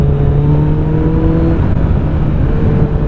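A Kawasaki Z900 four-cylinder motorcycle with an Akrapovic exhaust drones loudly and steadily up close, a continuous throaty engine note with a slight rise in pitch, no voices.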